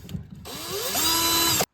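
A 2.5mm drill bit bores bolt holes during a bilge pump install, a short whining burst that spins up after a few taps and runs steady for about a second before stopping abruptly, close and alone.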